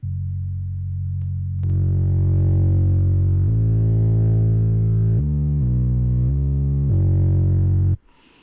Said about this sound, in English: So now it's just the tube distortion